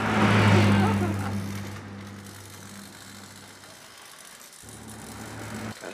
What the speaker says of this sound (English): Kind of skidding around a little bit because of that slick floor and hard tires